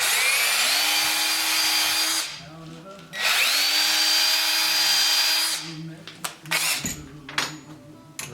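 A power drill bores mounting holes for a Warn winch, whining steadily for two long bursts before a few short, choppy pulses. Faint talk is heard between runs.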